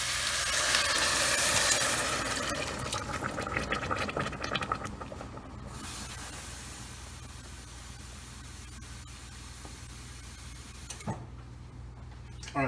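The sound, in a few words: broth or water poured into cooking pot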